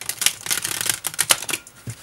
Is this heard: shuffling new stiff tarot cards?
yes